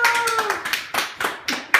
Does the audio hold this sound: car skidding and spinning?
no